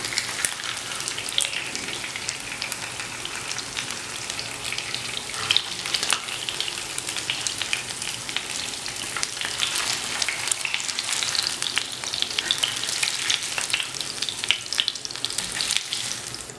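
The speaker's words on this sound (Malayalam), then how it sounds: "മീനിൻ്റെ 2 സൈഡും ഇവിടെ ഫ്രൈ ആയി വന്നിട്ടുണ്ട്." Fish pieces fry in hot oil in a pan for a Kerala-style chilli fish, a steady, close crackling sizzle with frequent pops and spits, and no voices.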